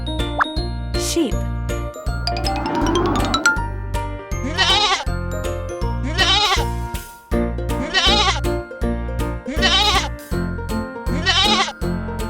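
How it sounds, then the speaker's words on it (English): A sheep bleats in several loud, wavering cries at regular intervals. They sit over a bouncy children's tune with tinkling chimes, after a bubbly plop near the beginning. "Sheep."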